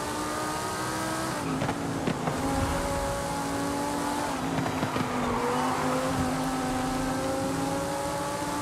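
Car engine in fourth gear in Forza Horizon 5, droning steadily at mid revs with rising pitch as it pulls through a wide power band, loud and close with no talk.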